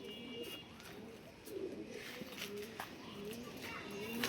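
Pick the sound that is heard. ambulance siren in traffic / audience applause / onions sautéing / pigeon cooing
pigeon cooing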